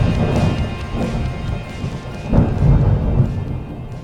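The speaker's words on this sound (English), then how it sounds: "Can't beat a bit of thunder to set the ambience for a podcast" Deep thunder rolls through a steady downpour of rain, with a heavier crack and rumble swelling near the middle before easing off, loud and close with no voices.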